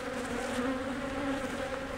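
Steady, dense buzzing of many honey bees close around a hive, a continuous droning hum with no pauses.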